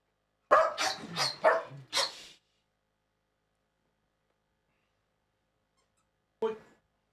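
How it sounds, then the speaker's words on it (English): Shetland sheepdogs barking nearby, a quick run of four or five sharp barks followed by silence and then one lone bark several seconds later. "Shetland sheepdogs"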